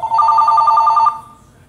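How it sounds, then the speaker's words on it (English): An office telephone rings close and loud: a single rapid, trilling electronic ring lasting about a second, then cutting off into quiet. "And the office phone would ring right now"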